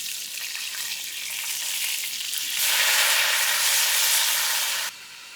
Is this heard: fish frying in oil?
yes